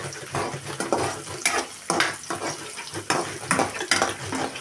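Onions with green and dried red chilies fry in a cumin and mustard seed tempering, giving a steady sizzle broken by repeated scraping stirs and clinks of a spoon against the pan, close up and without talk.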